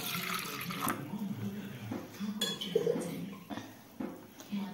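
Water is poured over urad dal in a kitchen vessel to wash it, a steady close splashing and trickling with light clinks of a pot, no voices.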